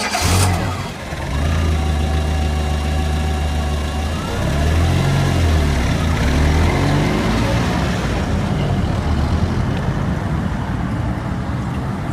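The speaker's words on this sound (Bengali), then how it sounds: "বৃষ্টির তেজ ক্রমশ বাড়ছে, তাই অযথা দেরি না করে গাড়িটা স্টার্ট দিল গোবিন্দ।" A car engine cranks and catches, then settles into a steady, loud idle with rising revs, set against heavy rain as a dramatised horror-story effect.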